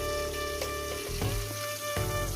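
Pointed gourd and potato pieces fry in a covered pan for a vegetarian curry, producing a soft, continuous sizzle with a few stirring scrapes and knocks, quiet and close, with no talking.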